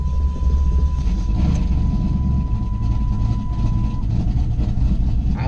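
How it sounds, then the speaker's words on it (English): A car engine idles steadily right after starting, a constant low rumble with a throbbing, heavy tone and a faint whine, running alone with no talk. "So with that, let's start the car."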